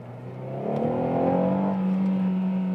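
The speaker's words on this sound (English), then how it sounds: "Wow, that's the engine. Very loud, don't you think so?" A Renault Megane GT engine in sport mode revs up sharply, its whine climbing in pitch and then holding at a loud, strained level.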